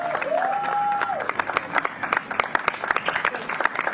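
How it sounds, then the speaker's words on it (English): Audience applause at an outdoor Juneteenth flag raising ceremony, a steady patter of many hands clapping, fairly close, following a sustained tone at the start. "let's give them all a round of applause"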